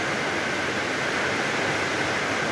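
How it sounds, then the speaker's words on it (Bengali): Heavy rain pouring down, a dense, steady hiss of broadband noise without breaks, loud and continuous throughout. "এই দেখুন আরো জোরে বৃষ্টি এসেছে।"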